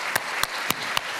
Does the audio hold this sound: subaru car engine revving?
no